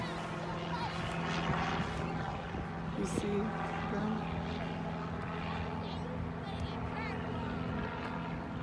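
Airplanes passing over a park fill the air with a steady, droning engine rumble at moderate distance, while children and adults chatter and call out over it.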